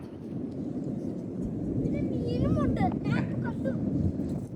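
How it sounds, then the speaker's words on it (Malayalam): Strong wind in Finland roars and buffets the microphone in a low, continuous rumble, with a person talking faintly over it midway. "നല്ല കാറ്റുണ്ട് കേട്ടോ"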